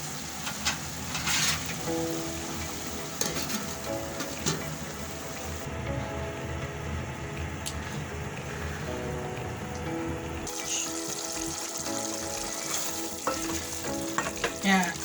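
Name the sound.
tomatoes and French beans sauteing for masala rice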